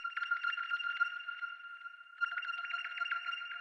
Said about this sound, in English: So it's an accent called Lost in Space. I think it's an ARP,